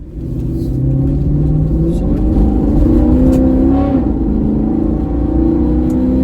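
A Porsche 928 S4 V8 fitted with new Bilstein B6 shocks drives on the road, heard from inside as a loud, steady engine drone with rising and falling pitch as it accelerates, no speech.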